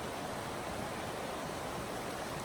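A stream in Shenandoah National Park rushes steadily nearby, a constant broad hiss of flowing water with no pauses or voices.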